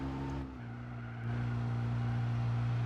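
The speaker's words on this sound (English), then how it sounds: "Sounds awful. That's because it's a diesel." Diesel hatchback engine in the racing game Gran Turismo 4, a steady low droning hum that rises in level partway through, loud and continuous with no talk over it.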